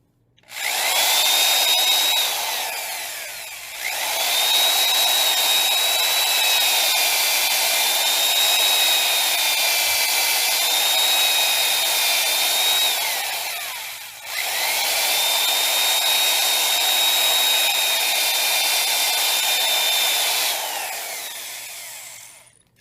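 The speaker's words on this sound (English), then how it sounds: "a little more sanding and we'll have this all ready." Power sander working a wooden redbud vase, a loud steady whine running in three long passes with brief pauses between, close and alone without talk.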